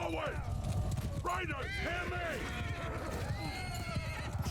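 Horses in the Mount & Blade II: Bannerlord video game, several loud whinnies over a clip-clop of hooves amid battle noise, with someone talking over it.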